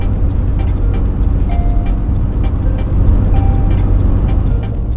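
Car traffic on a small-town road, heard as a loud, steady low engine and tyre rumble with a few faint higher tones over it, with no talking.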